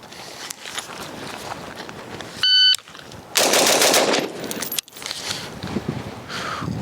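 A rifle fires a rapid string of shots in a bill drill on an outdoor range, loud close reports packed together, followed by a timer beep and movement, with brief talk.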